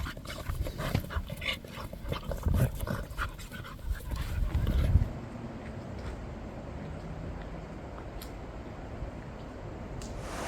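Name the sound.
dogs panting, following trekkers in Albanian mountains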